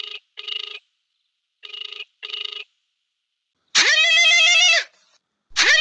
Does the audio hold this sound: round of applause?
no